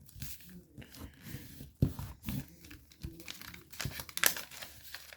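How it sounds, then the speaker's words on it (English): Paper flaps of an origami fighter jet model being folded and creased by hand, with soft crinkling and sharper crisp snaps at irregular moments, close and fairly quiet. "Turn the model over, fold these other flaps into the center."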